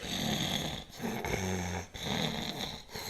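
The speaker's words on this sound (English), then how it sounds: "He is actually snoring with his mouth closed." A congested child snores through the nose with the mouth closed, giving close, steady rasping breaths in a repeating rhythm with brief pauses between them.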